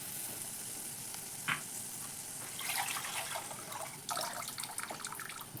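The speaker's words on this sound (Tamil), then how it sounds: "இன்னும் கொஞ்சம் தண்ணி உள்ளே ஊற்றிக்கிடுவோம்." Water is poured into a simmering Kerala-style fish curry, a continuous sizzle and liquid hiss with splashing surges and a brief clink partway through.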